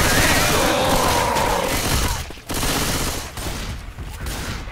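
Dense, continuous gunfire from a Left 4 Dead 2 tournament match, a loud barrage of rapid shots with brief dips, heard up close.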